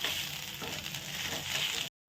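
Whole coriander seeds and spices sizzle steadily in a hot pan for a masala with chana dal, a continuous close crackle with slight stirring shifts, then abrupt silence.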